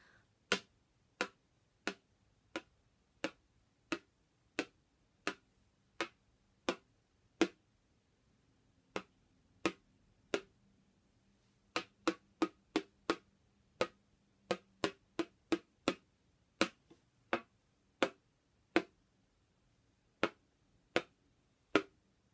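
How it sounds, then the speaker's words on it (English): A classroom group claps out the rhythm of the round Frère Jacques in silence, sharp isolated claps in a steady beat with short pauses between phrases, close and clear with no voices. "we're going to clap and think the words in our head"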